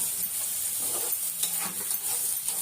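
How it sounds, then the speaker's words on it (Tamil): Fish curry masala sautéing in oil in a home kitchen pan, a steady soft sizzle with a few louder stirring scrapes spread through, close and continuous with no one talking. "வதக்கும் போதே எண்ணெய் பிரிஞ்சு வருது பாருங்க"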